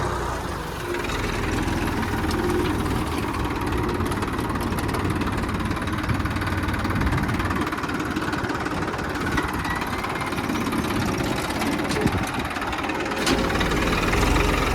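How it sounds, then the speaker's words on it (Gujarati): A tractor engine runs steadily in a millet field, a continuous loud idling rumble with a slight knocking texture throughout, no voices. "ટ્રેક્ટર હાકે"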